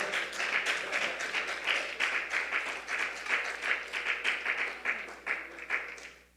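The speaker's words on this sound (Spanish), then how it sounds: "Un fuerte aplauso todos para la presencia de Él" Steady applause from a congregation during a Christian sermon, many hands clapping in a dense, even rhythm for several seconds, moderately loud and sustained before tapering off at the end.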